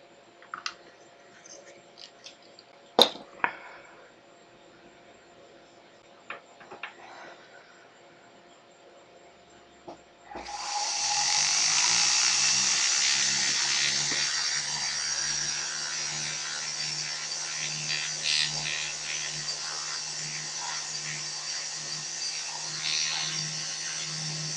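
A piece of amber set in silver jewelry being sanded at a jeweler's bench: scattered faint clicks first, then a loud, steady abrasive hiss with a low hum that starts about halfway and runs to the end, with no talking.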